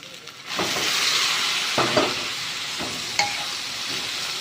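Mushrooms and holy basil stir-fry in hot oil, giving a steady loud sizzle with a spatula scraping and clinking against the pan now and then, close up and without speech.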